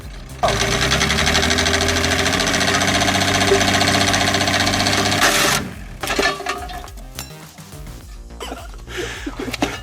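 A wood chipper's engine runs loud and steady with a droning, rattling hum, then cuts out abruptly about halfway through, leaving quieter uneven mechanical noise.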